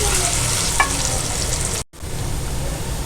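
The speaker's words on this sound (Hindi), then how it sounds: "अब हम हल्की सी इसकी भी बुनाई कर लेंगे।" Ginger garlic paste frying and being stirred in a pan for a dhaba-style egg curry, with a steady loud sizzle throughout and a brief dropout near the end before the sizzling resumes.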